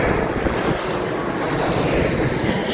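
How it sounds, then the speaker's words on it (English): A jet airliner passing overhead near Heathrow Airport, heard as a steady, loud broadband roar with wind rush that holds level throughout, with no voices over it. "decided to do my first draft as the first plane comes over"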